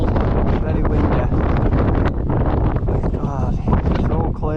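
Strong, cold wind buffets the microphone in a continuous, heavy rumbling roar on a Peak District hilltop at Kinder Downfall, with a voice faintly audible underneath.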